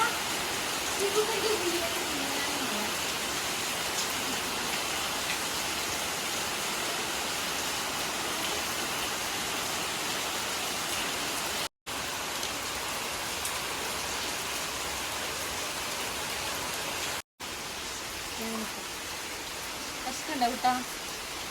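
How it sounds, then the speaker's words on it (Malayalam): Heavy rain pours down in a steady, dense wash of noise for the whole stretch, briefly cut twice, with faint voices now and then beneath it. "നല്ല മഴ പെയ്യുന്നുണ്ടാ."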